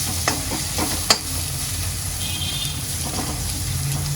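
Spice masala of chili powder and coriander-cumin powder sizzles steadily in a hot pan while a spoon stirs and scrapes it, close up, with a brief clink partway through.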